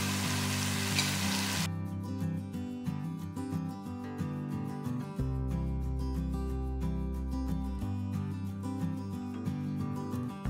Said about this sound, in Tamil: அப்படியே வதங்கிட்டு இருக்கட்டும்.